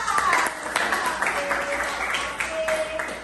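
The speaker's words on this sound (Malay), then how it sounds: "Wah, bagi tepukan" Scattered clapping from a small group, fairly close, with voices chattering over it.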